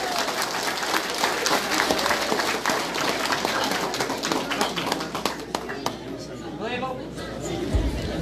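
Applause at a mass wedding held for a provincial anniversary, a dense burst of crowd clapping that gradually thins out over several seconds, mixed with busy chatter and voices throughout.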